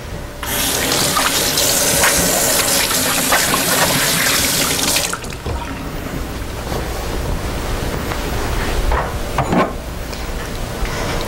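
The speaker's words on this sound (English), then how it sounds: "I'm going to go wash my hands." A kitchen tap runs strongly as hands are washed at the sink, a loud continuous splash for about five seconds, then quieter intermittent splashes and rinsing sounds.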